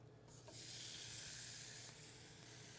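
Raw bacon strips sizzle loudly in a dry pan with no oil, a steady bright crackling hiss that swells after a brief opening and holds close and even throughout.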